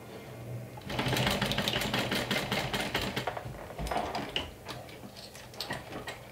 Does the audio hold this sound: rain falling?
no